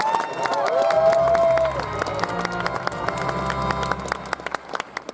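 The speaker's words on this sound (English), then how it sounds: "Round of applause, ladies and gentlemen, for Jarvis White." Audience at a late-night stand-up comedy showdown at Anime Expo 2016 claps and cheers in a sustained, dense burst, with sharp individual claps poking through and a brief tonal sting over the crowd noise.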